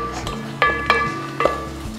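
A spoon stirring spice mix in a pan for fish dum biryani gives three sharp metallic clinks over a low background hum, while a voice talks.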